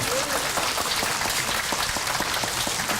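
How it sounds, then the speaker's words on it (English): An audience at a community band summer concert applauds the woodwind soloists, a dense, steady wash of clapping from many hands throughout. "One more round of applause for our fantastic woodwind soloists in that one"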